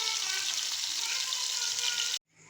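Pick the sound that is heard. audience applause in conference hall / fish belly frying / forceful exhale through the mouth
fish belly frying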